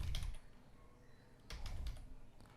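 Quick bursts of keystrokes on a computer keyboard, a short flurry at the start and another cluster later, fairly close and clear with no talk.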